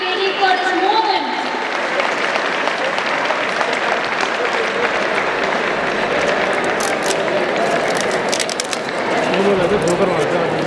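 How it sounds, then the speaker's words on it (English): Steady, dense clapping from an audience at a ceremony honouring Chetan Bhagat continues throughout, with voices talking underneath and a few sharper claps standing out. "Clapping, guys."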